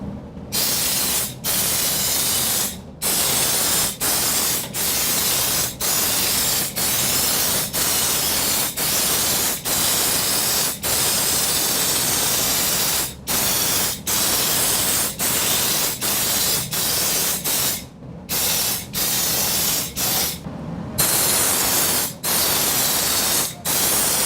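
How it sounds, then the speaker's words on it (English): Undercoating sprayed onto the lower side of a truck box, a loud, steady hissing spray running almost continuously, broken by brief pauses, with no talking. "Now we're going to undercoat the lower side."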